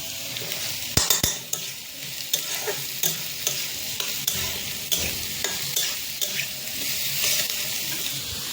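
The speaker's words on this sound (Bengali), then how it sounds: "পেঁয়াজটাকে আগে ভালোভাবে ভাজি" Onions sizzle steadily in a pan while a utensil stirs and scrapes, with sharp metallic clinks punctuating the close, continuous frying hiss; no one speaks.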